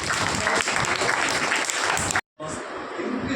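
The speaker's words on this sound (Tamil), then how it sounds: "நம்ம எல்லாரும் அவங்களுக்கு கைத்தட்டி அவங்களுக்கு என்ன பண்ணுவோம்" A crowd of students claps for the organisers at a bird and animal welfare trust event in Kundrathur, brisk, continuous applause that cuts out for a moment and then resumes more quietly.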